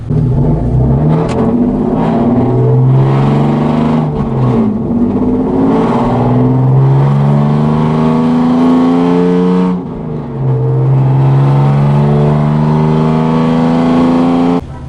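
Car driving at speed after an LED headlight bulb install, a loud, steady engine drone with rising and falling harmonic tones as it shifts through gears, alone without talk.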